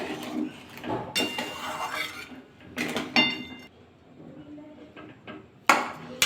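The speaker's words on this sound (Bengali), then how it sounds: "এবার ঢাকাটা খুলে নেব, একটু নাড়াচাড়া করবো আবার।" A lid comes off a pot of boiling potatoes and the contents are stirred, giving irregular metallic clanks and scrapes in separate bursts with quieter gaps and a soft background bubbling.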